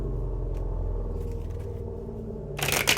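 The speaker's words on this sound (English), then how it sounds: "oh, big truck" A big truck passing outside, heard indoors as a low, steady rumble that swells into a louder burst of road noise at the end.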